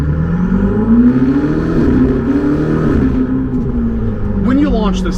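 A Ferrari 488 GTB engine builds revs on launch, a loud close-up mechanical drone rising and holding with a brief higher-pitched flare near the end, heard from inside the cabin.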